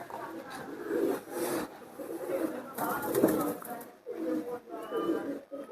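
Pigeons at a loft of prize-winning racing birds coo in repeated low rounded pulses, several in a row, heard beneath someone talking.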